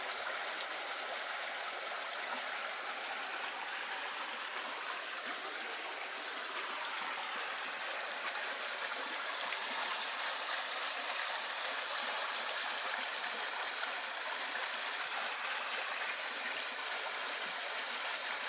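A cold winter stream flowing steadily at a spring where water is collected, a continuous even rush of water heard up close and alone, with no voices.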